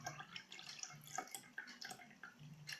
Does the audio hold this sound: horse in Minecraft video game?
no